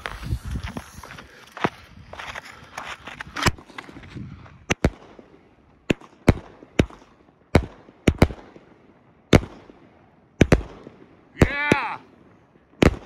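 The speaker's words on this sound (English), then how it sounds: "Sir Vegas, 30 shots." An Outlaw Sir Vegas 30-shot firework cake fires a steady series of sharp, loud outdoor pops, roughly one every second, ending with a crackling, whistling burst.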